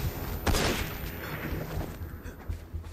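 Gunfire and a flashbang-like burst in the video game Assassin's Creed Unity, a loud broadband blast near the half-second mark followed by continuous noisy battle sounds and rapid shots.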